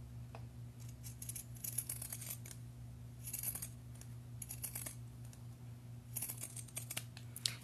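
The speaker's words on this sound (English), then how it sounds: "if you've got your pinking shears, to cut down on that, just take them and cut down the edge also" Pinking shears snip along the edge of a fabric seam in repeated short, crisp bursts of cutting, fairly close against a steady low hum.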